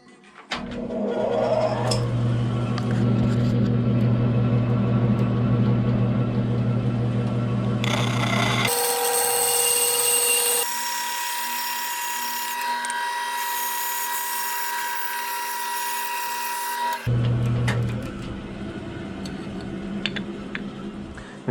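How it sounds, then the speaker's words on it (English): A bandsaw hums and whines steadily while cutting out a wooden longbow form, with a sharp shift to a higher, harsher tone midway as the blade bites, then back to the lower running drone, loud and continuous. "and then we'll go over to the bandsaw and cut it out."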